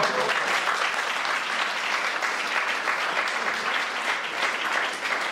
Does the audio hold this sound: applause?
yes